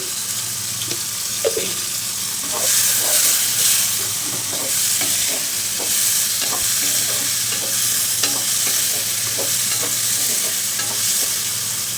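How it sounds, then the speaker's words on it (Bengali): Winter vegetables are stir-fried in a pan with a continuous hiss of sizzling oil and repeated scraping and stirring knocks from a utensil. The sounds are close and steady throughout. "তো আমার সবজিটা ভাজা হোক"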